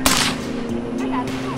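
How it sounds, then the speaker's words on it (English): A single suppressed shot from a Sig Switchblade at an outdoor range in Texas, a loud close crack that rings out briefly and decays over about a second. "First gun I shot was the Sig Switchblade with one of their new cans"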